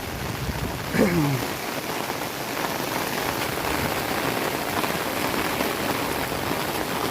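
Heavy monsoon downpour in the Gir region makes a steady, dense hiss of rain drumming on surfaces, with a brief faint tonal call early on and no speech.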